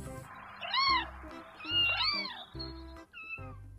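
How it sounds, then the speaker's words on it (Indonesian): A cat meows clearly up close, three drawn-out, pitch-bending cries in succession, the middle one longest, over a faint low background hum. "ini kucing."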